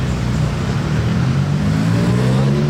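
A Porsche GT4 RS driving past on a street, its engine a loud, continuous rising drone that builds in pitch over a few seconds, close by with no talking.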